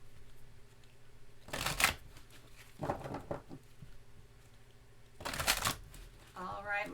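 Tarot life purpose cards are shuffled in close, crisp bursts of riffling with pauses between them. Someone speaks softly at the end.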